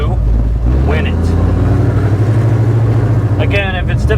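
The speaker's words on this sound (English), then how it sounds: "This car is loud." A 1967 Mustang resto-mod with a supercharged Coyote V8, recorded from the cabin: a loud, deep engine rumble runs throughout, with a brief whine or rev rise at moments and people talking over it.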